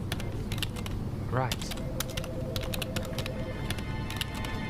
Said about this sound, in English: I just like typing and that